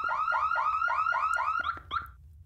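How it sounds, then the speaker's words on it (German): A car alarm in the ghost-hunting video game Ghost Exile whoops in a fast repeating series of rising electronic chirps, about eight in a row, then breaks into short sharp beeps before stopping. "Er hat jetzt die Alarmanlage"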